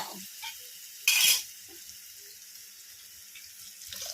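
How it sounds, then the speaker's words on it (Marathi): Water poured from a container into a homemade village-spice vegetable curry in a pan, a brief loud splash near the middle followed by quiet pan noise and faint clinks. "त्यामध्ये थोडंसं पाणी टाकून घेऊया"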